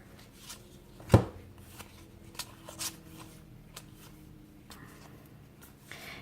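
Trimmed Goddess Oracle cards being handled and flipped through, with soft card shuffles and slides, one sharper tap near the start, and quiet rustling throughout.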